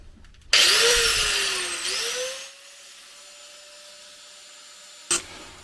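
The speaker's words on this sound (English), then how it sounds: "I'll put a cutting disc on the grinder and I'm going to cut through the bearing just enough" An angle grinder with a cutting disc spins up and bites into a steering head bearing on a Honda CRF300L, a loud rising whine that drops as the cut loads, then eases to a steady lighter hum, with a short sharp burst near the end.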